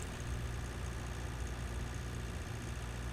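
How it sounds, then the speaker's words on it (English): A big Versatile tractor in Pure Farming 2018 works a field, its engine giving a steady, low, droning rumble at moderate level with no pauses. "about our Versatile, it's cutting through really nicely. It's a big tractor, so it has a lot of horsepower"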